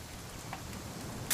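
Steady rain in the video game What Remains of Edith Finch, a constant soft hiss of falling drops with a brief brighter splash near the end.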